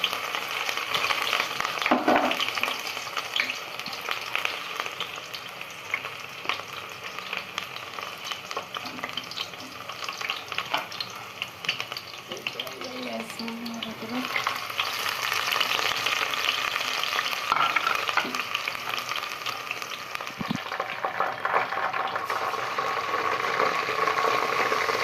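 Onion frying in mustard oil in a home kitchen pan while greens are prepared, a steady broadband sizzle with occasional stirring scrapes running throughout, fairly close and alone without talk.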